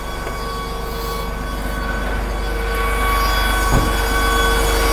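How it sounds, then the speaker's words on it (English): A blower driven by a compressor produces air as a constant, loud, close mechanical drone with steady tonal whine, slowly building in level, with no voices heard. "Now that blower is producing air."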